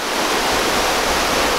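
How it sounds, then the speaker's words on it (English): A waterfall roars in a steady, dense broadband rush, loud and close, with no breaks and no voices over it. "As you can see behind me, the waterfall is there. The sound is awesome."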